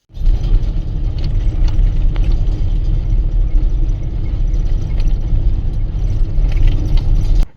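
A vehicle carries a group out to cut wheat early in the morning, its engine a steady loud rumble with rattling and jangling throughout and no talk.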